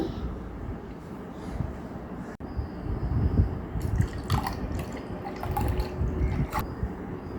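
Homemade nannari probiotic sherbet poured into a glass: a soft, continuous trickle and splash of liquid with scattered drips, at moderate level, over a faint room background.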